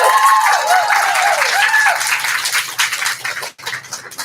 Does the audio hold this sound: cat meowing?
no